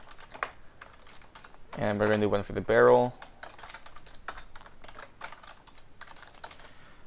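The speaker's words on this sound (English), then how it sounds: "So as you can see, when I'm typing" A computer keyboard clatters with quick, light, irregular keystrokes throughout while someone speaks briefly in the middle.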